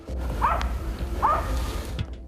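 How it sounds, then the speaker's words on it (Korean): Hunting dogs bark during a wild boar hunt, two sharp barks a moment apart, heard at a distance over outdoor background noise. "잠시 뒤 사냥개 짖는 소리가 들립니다"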